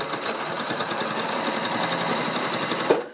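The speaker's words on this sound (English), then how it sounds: "as you're sewing, you might have to do a little adjustments" A sewing machine stitches through foam for a zip bag, giving a fast, even mechanical whirr that runs close and steady before stopping abruptly near the end.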